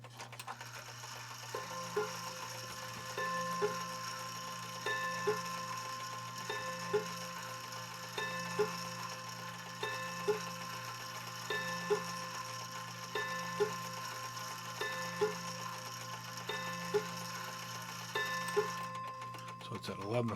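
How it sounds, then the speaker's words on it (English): An Ingraham Art Deco style mantle clock chimes, a faint, even series of eleven evenly spaced strikes over a steady low hum and ticking, with no talk. "Trip the lever here and get the clock to strike."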